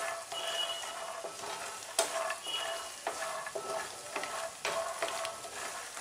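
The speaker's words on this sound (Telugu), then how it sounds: "మళ్ళీ మీడియం ఫ్లేమ్లోనే వేపుకోవాలి." Ivy gourd and coconut fry over a medium flame in a pan, a steady close sizzle broken by scraping stirs at regular intervals, with no voices.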